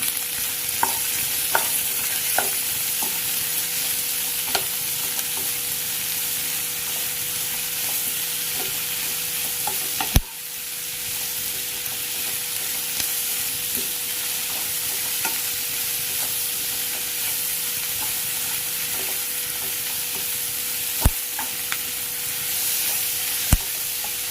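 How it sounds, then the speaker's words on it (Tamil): Chopped onions sautéing with a little rock salt in a pan, stirred steadily, a constant close sizzle broken by scraping clicks of the spoon against the pan, with no voices. "இந்த வெங்காயம் வதங்கிறதுக்காக கொஞ்சமாக கல்லுப்பு போட்டுக்கிறோம்."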